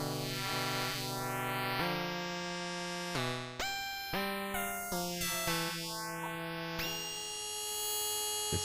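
A Polyend Synth warp patch in retro mode plays sustained buzzy harmonic tones. Steep sweeping pitch glides rise and fall over stepped note changes, with a steady gritty noise layer underneath.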